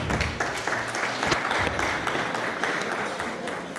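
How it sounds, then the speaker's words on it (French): An audience applauds Rwandan colleagues at a Francophonie Day event at TTC Mbuga in Rwanda, with steady, dense clapping that fills the whole moment at an even level and no voices standing out. "merci d'applaudir mes chers collègues rwandais,"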